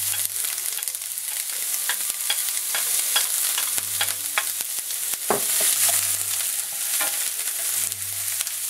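Chopped onion frying with ginger and garlic for samosa filling gives a steady close sizzle, punctuated by repeated utensil taps and scrapes as it is stirred, with a low hum in the background and no talking.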